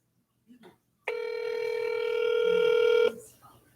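A telephone rings on an outgoing call, one steady electronic ring tone lasting about two seconds and rising slightly in loudness, with a faint murmur of voice just before it.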